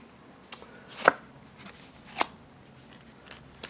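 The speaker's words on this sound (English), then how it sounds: "Let me shuffle these a bit more" Tarot cards are shuffled by hand during a reading, giving a few sparse, crisp papery snaps and taps spaced over a few seconds against a quiet room.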